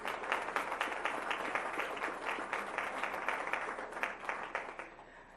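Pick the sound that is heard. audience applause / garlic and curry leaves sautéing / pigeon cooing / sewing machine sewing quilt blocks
audience applause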